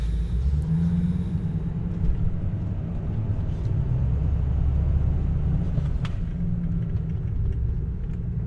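Steady low rumble of road traffic rolling past a 2004 Ford F250, a continuous engine and tire drone with no voices over it.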